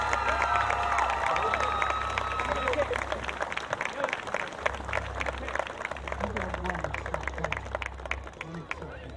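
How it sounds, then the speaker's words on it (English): A crowd applauds a football coach at a New Jersey high school tournament game between Red Bank Regional and Millville, with dense, steady clapping and a low constant hum beneath it. "let's have a big round of applause for Coach Tony Serace"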